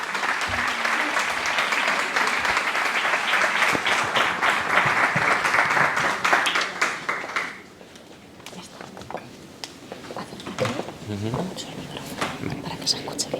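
Audience applause welcomes a lecturer before his talk, filling the room for several seconds and then stopping as a voice begins speaking into the microphone with some handling noise.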